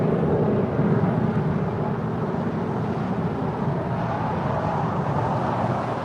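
Airliner departing LAX bound for New York, a steady broad roar of jet engines heard from a distance, continuous and even throughout with no voices.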